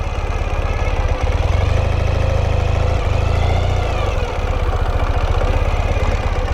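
A 2014 Ural Retro M70 sidecar motorcycle idles steadily up close, its deep rhythmic engine throb loud throughout while the hand shifter is moved between neutral and reverse.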